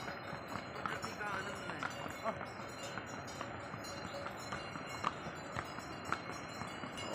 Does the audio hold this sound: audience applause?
no